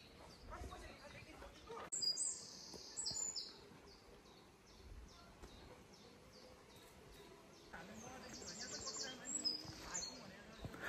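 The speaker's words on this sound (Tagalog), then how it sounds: "Ang sarap pakinggan ng mga huni ng ibon" Birdsong rings out in a rural forest near Heiden, Appenzell, Switzerland: scattered high chirps and short calls, some close and clear, over quiet outdoor ambience with soft rustling, intermittent rather than continuous.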